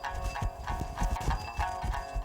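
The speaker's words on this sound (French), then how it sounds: "Le cheval mustangui a une façon particulière de trotter." Mustang horse hooves trot in an ambling gait, the legs on one side lifting together, giving a rhythmic, fairly loud clip-clop of repeated hoof beats close by, with no talk.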